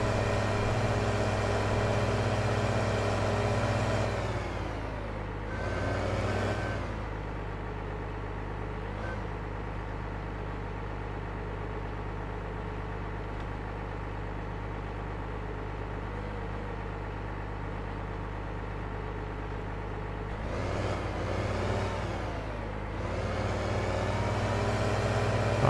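A log truck's engine drones low and steady in Farming Simulator 15, a continuous heavy rumble with a couple of brief surges as it revs up and settles, no talking over it.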